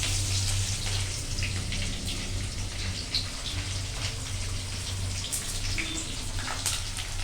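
Chopped onions going into a hot pan of oil for dum biryani, giving a steady loud sizzle and hiss that holds through the whole stretch, with a low hum beneath it.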